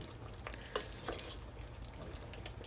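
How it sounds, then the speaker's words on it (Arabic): A spoon scrapes and stirs minced meat with potatoes in tomato sauce in a pan, giving soft, irregular taps over a steady low sizzle. "هنقلب بقى كل الكلام ده مع بعضيه ونسيبه يتسبك شويه"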